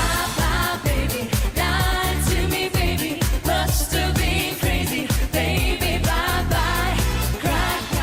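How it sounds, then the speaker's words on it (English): A UK Eurovision entry: a loud, full band performance with a lead vocal whose pitch seems to wander sour against the accompaniment, steady and dense throughout. "It sounds like someone singing a wrong note."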